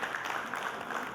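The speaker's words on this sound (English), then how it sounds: "Please, let's give ourselves a round of applause" Steady applause from a conference audience at a workplace welfare event, a dense, even patter of many hands clapping at moderate distance, lasting throughout.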